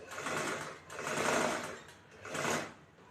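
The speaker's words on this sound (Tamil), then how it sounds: "இதுலேயும் இப்படி தச்சு ஊசியை நிப்பாட்டி துணியை திருப்பி பாவடிவத்தில் தைக்கிறோம்" A sewing machine stitches the neckline of a blouse, running in three steady bursts with brief pauses between as the needle stops and the fabric is turned, close and clear with no talking.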